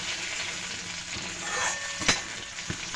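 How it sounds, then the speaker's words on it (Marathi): Whole spices dry-roasting in a pan for Maharashtrian katachi amti, a steady light crackle and sizzle with a few sharp clinks of a spoon against the pan near the middle. "आता आपण हा सगळा अख्खा मसाला टाकायचा आहे। तो पण चांगला भाजून घ्यायचा आहे"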